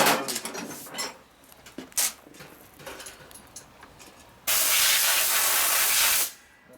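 After a few near metallic clunks and handling knocks, a compressed-air nozzle lets out one loud, steady hiss lasting about two seconds, blowing off a part of a 1965 Harley panhead 74ci engine during a lower-end rebuild.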